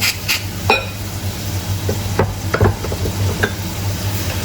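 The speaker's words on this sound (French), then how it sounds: "Et là on mélange." A peasant salad with its dressing is stirred in a bowl, soft wet scraping and a few sharp utensil clicks against the dish, close and fairly quiet with no voices.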